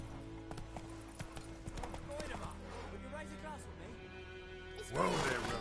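Roach the horse in The Witcher 3, with hooves clip-clopping at a steady trot under game dialogue and music, and a short neigh near the end.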